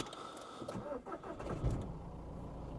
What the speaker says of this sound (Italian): il rumore del diesel